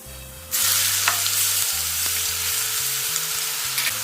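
Ginger, chili and garlic paste hits hot oil with a sudden loud sizzle that keeps crackling steadily; low music plays underneath.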